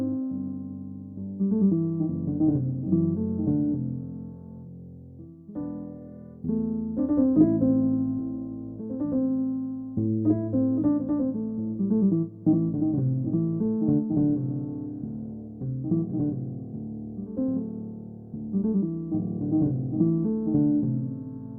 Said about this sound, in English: So I've been working on this composition that I wrote for piano